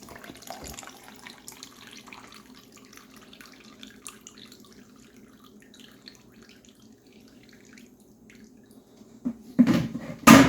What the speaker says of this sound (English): we're going to just kind of filter that out of there and dump it into a bowl.